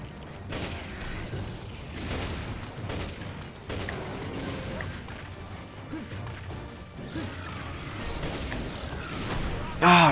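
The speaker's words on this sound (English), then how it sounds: "I hate the explosions on his attacks" Dense, repeated blasts and crashing impacts from a frenzied Brachydios's attacks in Monster Hunter 4 Ultimate, bursting loudly over a constant busy battle din, with a sharper burst near the end.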